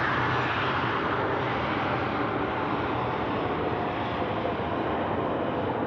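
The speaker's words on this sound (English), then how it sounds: "So I just missed this Virgin Australia aircraft landing" Virgin Australia airliner landing on runway 34 right at Sydney Airport, a steady broadband jet engine roar heard from a distance, even in loudness and unbroken, with no voices.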